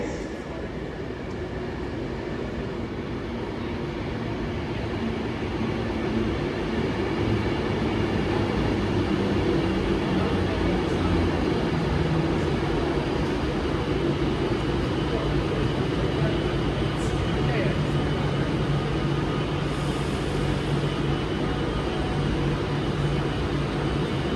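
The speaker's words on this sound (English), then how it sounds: "Train now departing is a 390 going to Manchester Piccadilly." A nine-coach Class 390 train pulling out of Stoke-on-Trent station bound for Manchester Piccadilly, a steady low rumble and rising hum of traction and wheels that holds strong and continuous throughout, close by on the platform.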